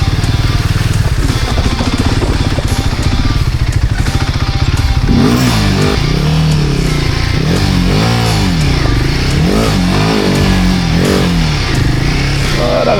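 An off-road trail motorcycle rides over wet grass and mud in Brittany. The engine drones loud and close throughout, then rises and falls in repeated revving surges during the second half.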